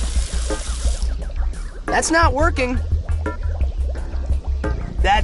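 Water running into a sink in an Adventure Time video game, a steady close pouring flow heard under animated character voices speaking throughout.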